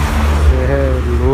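A Volkswagen Gol rolls in at the BGT 12 Bubble Gun Treffen car meet, a deep, close engine rumble under someone talking over it.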